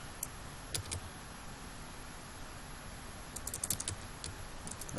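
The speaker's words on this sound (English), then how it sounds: "And then we type in the full path to the device, which is /dev/mapper /vol." Steady typing on a computer keyboard while entering a command in a CentOS 5 terminal, a run of light, close key clicks with small bursts and pauses, quiet and alone with no talking.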